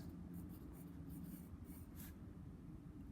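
A pen writes a letter by hand in soft, close scratching strokes, faint and intermittent over a quiet low room hum.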